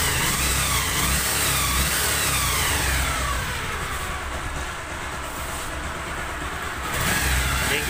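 A Bajaj Pulsar 150 motorcycle engine, running without its battery during headlight wiring repair, revs steadily and loudly up close, dipping briefly before the throttle picks up again.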